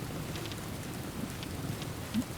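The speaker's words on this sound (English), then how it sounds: "it's pouring rain right now" Steady pouring rain in the survival game Enshrouded, a dense, continuous wash of falling water with scattered brighter drop patters and a faint low rumble underneath, heard alone at moderate level.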